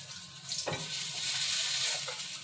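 Fritters (bora) sizzling in hot oil as they are lifted out of the pan for a green banana peel dish, a steady close frying hiss with a brief scrape of the spoon early on.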